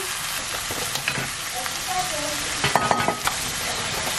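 Squid stir-frying in a hot pan, a loud continuous sizzle with stirring and spatula scrapes, a brief cluster of sharper clatters near the end.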